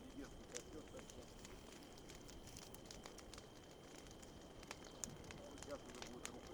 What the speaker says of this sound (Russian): Костерчик прикольный